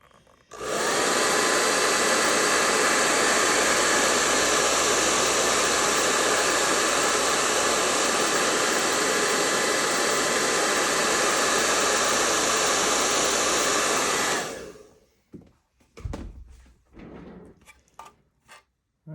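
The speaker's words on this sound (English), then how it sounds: "So let me get the hair dryer" A hair dryer blows loudly and steadily over a 1:200 scale model battleship deck for about fourteen seconds, then cuts off, followed by a few scattered clicks and handling noises.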